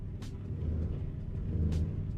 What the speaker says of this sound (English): I would like to have truck with this kind of sound